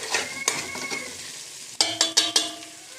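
Chopped garlic tipped onto onions frying in a pan, giving a soft sizzle with a few sharp clinks of a utensil against the pan near the end.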